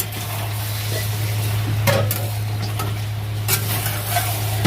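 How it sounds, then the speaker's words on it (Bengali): Potatoes being stir-fried in a pan for mutton curry give a loud, close, steady sizzle. A spoon scrapes and clinks against the pan now and then over a constant low hum. "তো আলুগুলো দিয়ে দিয়েছি, অনেকক্ষণ ধরে কষাচ্ছি"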